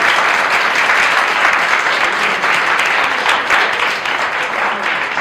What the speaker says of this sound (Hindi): बच्चों एक बार जोर से तालियां बजा दीजिए